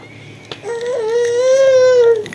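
A Filipino snack squeaking as it is sucked, from its acid: one loud, close, sustained high squeal with a slightly wavering pitch that lasts under two seconds.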